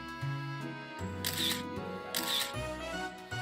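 Two synthetic camera shutter clicks from a dating-sim video game, spaced about a second apart, bright and crisp over soft looping background music.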